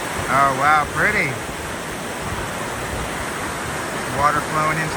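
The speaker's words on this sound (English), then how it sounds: "Water flowing into the creek." Water of Oneonta Creek flowing and rushing below a footbridge on a winter trail, a broad steady roar throughout, with a person's voice talking over it at the start and again near the end.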